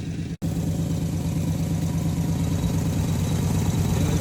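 Engine of a 1974 Chevrolet truck idling in a backyard with a broken fan shroud, a steady, even low rumble held close and loud throughout after a brief dropout near the start.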